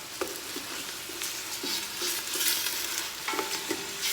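Ground meats sizzle and fry in a pan with browned onion, carrot and celery for a Bolognese sauce, a steady crackling hiss broken by scattered utensil scrapes and taps while being stirred and broken up.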